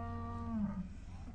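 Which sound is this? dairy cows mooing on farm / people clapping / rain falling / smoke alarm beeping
dairy cows mooing on farm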